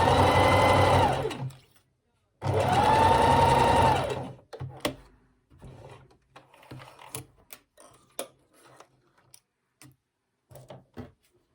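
A sewing machine stitching pajama sleeves with a quarter-inch seam, two loud sustained runs of whirring motor close by, followed by scattered clicks and fabric handling.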